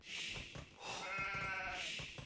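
Sheep in a video game bleat in two or three wavering, nasal calls that rise and fall, heard clearly above a quiet background.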